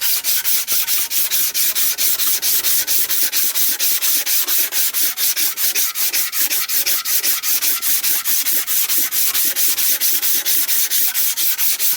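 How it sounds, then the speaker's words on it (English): Rapid, rhythmic scratching of a sanding block rubbed back and forth over a hard engine surface on a Mopar 318, removing old gasket residue, close and continuous with no voices. "I'm going to just take my sanding block"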